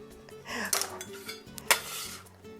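Chopped vegetables, including small cut pieces, tipped into a pan with clinks and scrapes of a utensil against metal, a couple of sharper knocks over a faint sizzle, close by and without talking.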